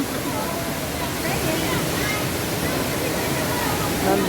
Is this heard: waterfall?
yes